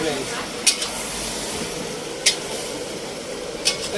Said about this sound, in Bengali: এখন চলছে মটন রান্না এই দেখো